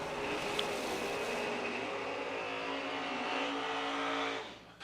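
An Oldsmobile drag race car runs hard down the strip, its engine a loud, steady, harmonic roar that holds for nearly five seconds before cutting off abruptly.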